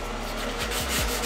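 Soft, steady rubbing and scraping as wet sandpaper is worked back and forth over a smooth Mercedes 190E body panel, close and continuous with a few heavier strokes.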